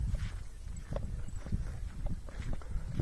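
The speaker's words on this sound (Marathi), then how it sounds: "बघा चरायला आलेली जनावर आहे ते" Grazing livestock walking along a riverside pilgrimage route, hooves clopping in an irregular, fairly close rhythm over steady outdoor background noise.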